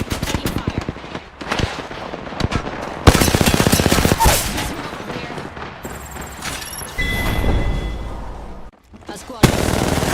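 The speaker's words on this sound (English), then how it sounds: "Taking fire." Video game gunfire in a squad-based combat mission: dense bursts of rapid shots and heavy blasts repeat throughout, loud and close, with distant booms and electronic tones layered between the volleys.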